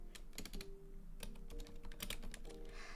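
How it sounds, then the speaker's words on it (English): Keys clatter on a computer keyboard in a steady, close run of typing strokes during a co-working session, alone with no voices. "you cookies can hear my typing"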